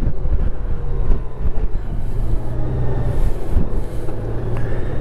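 A 2021 Honda Goldwing motorcycle cruises along a road, its smooth engine drone low and steady beneath loud, gusting wind rumble buffeting the microphone, with no one talking.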